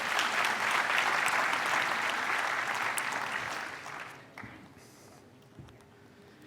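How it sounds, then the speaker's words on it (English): An audience at a manufacturing technology conference talk applauds after an exoskeleton demo, dense, even clapping for about four seconds that then thins out and fades to scattered claps. "Let's give a round of applause."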